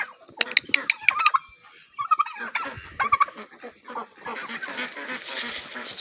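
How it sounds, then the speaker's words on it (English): A pet turkey gobbles in a quick, bubbling burst up close, followed by a second shorter gobble, then mixed bird chatter and rustling noise as the birds are fed. "This is Cooper's turkey"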